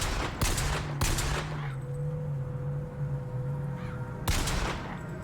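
Gunfire in the shooter BioShock Infinite: a few sharp, loud shots at the start and another near the end, with a steady droning tone lingering between them and no voices.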